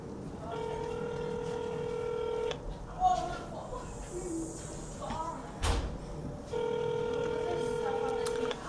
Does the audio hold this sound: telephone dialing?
yes